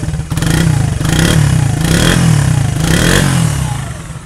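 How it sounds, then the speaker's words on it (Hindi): A Honda CD 70 motorcycle's exhaust silencer thrums loudly and close, a steady throbbing putter with slight rises in revs and a faint metallic clatter. "सिलेंसर का भी साउंड आपने खुद सुन लिया।"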